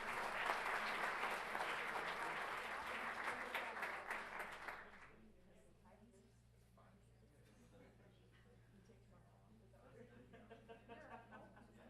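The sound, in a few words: audience applause at board meeting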